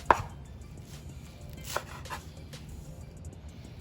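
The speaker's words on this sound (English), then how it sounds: "For the cilantro, just going to go ahead and cut a bunch." A knife rough-chops a bunch of cilantro on a cutting board, a few sparse, separate thuds spaced out over a quiet background, close and fairly soft.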